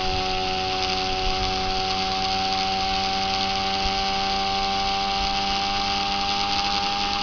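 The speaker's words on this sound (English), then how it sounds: "If you listen to the rotor," A pulse motor rotor with three series coils spinning steadily, a continuous even whirring hum with a constant tone throughout, close and alone.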